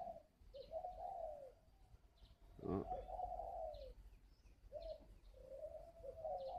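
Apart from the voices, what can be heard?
spotted dove cooing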